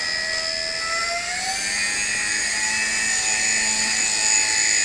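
A V977 RC helicopter's electric motor runs steadily close by, a high whining drone with layered tones that rise in pitch partway through and then hold; no talking.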